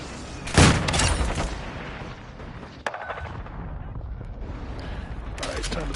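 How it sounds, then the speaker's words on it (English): Cruise missile strikes in Modern Warfare 2 come through as a heavy boom with a rumbling blast tail, then a sharp crack and a low roar of battlefield noise that fades and swells again. "Hostile cruise missile launched."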